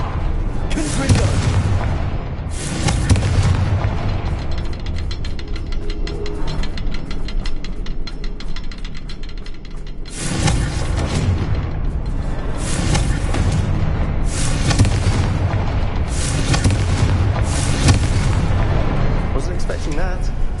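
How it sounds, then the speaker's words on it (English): Repeated Confringo fire-spell blasts from Hogwarts Legacy boom out in bursts over about twenty seconds, loud and close, with heavy rumbling explosions separated by short quieter stretches of game ambience. "Confringo."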